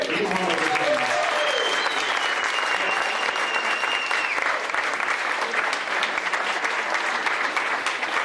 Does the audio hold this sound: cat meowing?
no